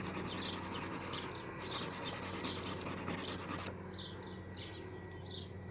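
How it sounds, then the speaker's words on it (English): Blades of a Flymo 1200R robotic mower being sharpened, a steady close rasping rub with repeated strokes and faint birdsong in the background, no talk. "for now we're just going to do a sharpen"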